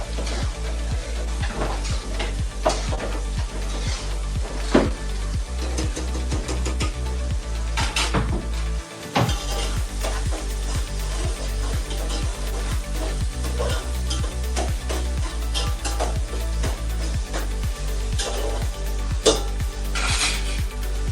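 Vegetables sizzle and fry in a pan as eggplant is sautéed for a fish curry, a steady loud crackle with occasional stirring clinks and scrapes throughout.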